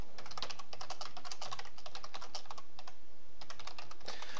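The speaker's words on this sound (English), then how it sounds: "your keyboard's like insanely loud" Very loud clacking on a computer keyboard in fast, steady bursts of keystrokes, close to the microphone, with no voices.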